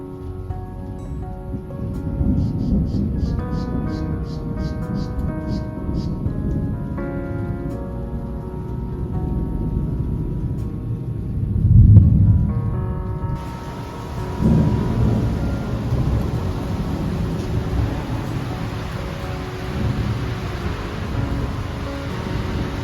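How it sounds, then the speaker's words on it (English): A thunderstorm at the sea in Italy, heard from a terrace: steady heavy rain patters throughout, and a deep roll of thunder swells near the middle. "a storm was coming up"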